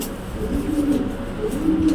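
Kabuter pigeons coo steadily in low, rolling tones, the throaty calls swelling toward the end, close and clear with no voices over them.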